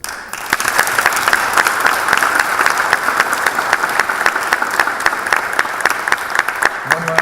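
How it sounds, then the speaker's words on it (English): Loud, sustained applause from a crowd at a city officials' swearing-in ceremony in Cathedral City, dense overlapping claps that hold steady from start to finish after a brief quiet opening. "please give a round of applause to yourselves for being here"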